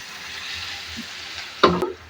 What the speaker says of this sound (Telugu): ఇప్పుడు ఎర్రగడ్డలన్నీ బాగా వాడ్చుకోవాలా. సన్నగా తరుక్కున్న పచ్చిమిరపకాయలు వేసుకోవాలి. ఇప్పుడు ఈ 2 బాగా మగ్గనివ్వాలి.